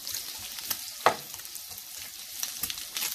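Bacon sizzles and crackles in a pan while being stirred, a close, steady frying hiss broken by a sharp scrape and scattered pops.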